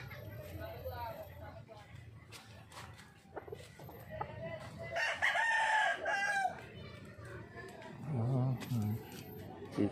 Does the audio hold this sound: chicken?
yes